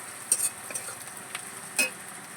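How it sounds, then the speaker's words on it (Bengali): Onions frying in oil in a pan for a cut-fish curry, a soft steady sizzle broken by a few brief stirring scrapes and clicks, close and fairly quiet, with no talking. "পেঁয়াজটা ভালো করে লাল লাল করে ভাজা করব"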